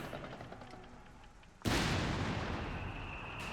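Artillery barrage in the real-time strategy game Company of Heroes 3: a quiet battlefield bed, then a sudden loud blast at about the midpoint that rolls into sustained, dense rumbling fire, close and continuous to the end.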